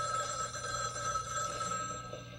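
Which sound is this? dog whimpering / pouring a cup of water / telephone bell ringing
telephone bell ringing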